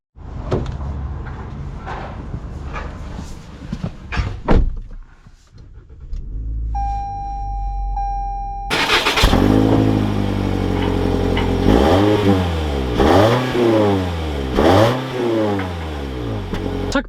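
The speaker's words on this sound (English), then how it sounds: "let's take this CHR Limited out and see how it drives." A 2021 Toyota C-HR Limited with a door thunking shut, a brief chime, then the engine starting and the car pulling away with rising and falling engine revs, loud and close from inside.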